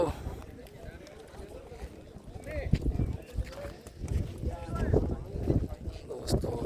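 A pure Sindhi-breed mare walks at a horse field, her hooves clip-clopping in an uneven rhythm at close range beneath wind and someone talking.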